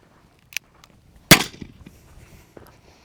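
Near a horse in an arena, a gun cracks once sharply and loudly, preceded by a small click of cocking and followed by faint rustling and movement.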